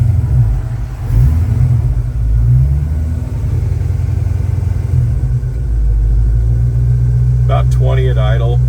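A 1929 Ford Model A pickup with a 350 engine idles in a steady, low, even rumble throughout, close by, with a brief voice near the end.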